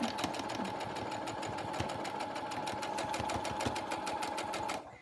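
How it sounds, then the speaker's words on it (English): A sewing machine runs steadily for about five seconds, reverse stitching over the crotch seam of a pair of shorts, with a fast even needle rhythm close by, then stops abruptly at the end. "you really need to make sure that you go and reverse stitch over it"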